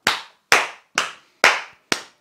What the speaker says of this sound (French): Mais je vous applaudis à chaque fois